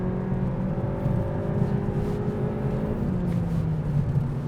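A Cupra Leon in sport mode with a 7-speed DSG gearbox accelerates from inside the cabin, a steady engine drone rising in pitch with a gear change about three seconds in, no talking.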